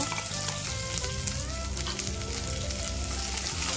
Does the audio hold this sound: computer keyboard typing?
no